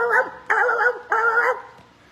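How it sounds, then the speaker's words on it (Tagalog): A dog barks three times in quick succession, close and loud, each bark a sustained yelping call, with a short low whimper trailing at the end. "Alam mo yung asong kahol ng kahol?"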